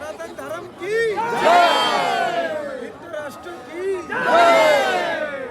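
Dense crowd of pilgrims at a Mahakumbh 2025 temple where Hanuman is worshipped lying down, a loud swelling roar of voices and chanting cries rising and falling in waves.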